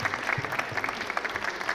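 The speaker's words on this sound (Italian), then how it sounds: "quindi un applauso a tutti gli espositori" Audience applauding the exhibitors at a women's trade fair in Italy, a short steady burst of many hands clapping at moderate distance, with no voices over it.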